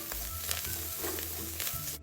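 Dried shrimp, diced Chinese sausage and minced garlic stir-fry in a pan, giving a steady close sizzle with soft scraping stirs and quiet low music underneath.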